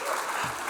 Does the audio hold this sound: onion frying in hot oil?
no